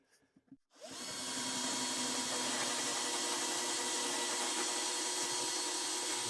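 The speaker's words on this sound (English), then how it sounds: "We've drilled a hole down here." After a few quiet knocks, a power drill with a 20mm bit starts boring through a wooden cigar box for a piezo pickup, a loud, steady whine that runs on to the end.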